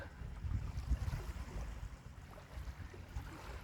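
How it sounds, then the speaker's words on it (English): Low, steady rumble of surf washing ashore at Black Point on Jamestown Island, with gentle wind noise and no voices, calm and continuous. "You could just sit here and watch the waves roll in."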